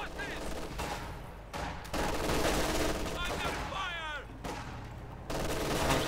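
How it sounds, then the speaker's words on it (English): Field gun and other weapons firing in Company of Heroes 2, a World War II strategy game, with dense, loud bursts of gunfire and explosions filling the whole stretch alongside steady battle noise. "Field gun there shooting at the fuel cache, it seems."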